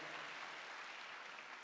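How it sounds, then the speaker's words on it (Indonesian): Church congregation applauding during a Sunday service, a steady dense wash of clapping that stays level and fairly loud for its whole short length, with no voices over it. "Kita berikan tepuk tangan bagi Allah kita."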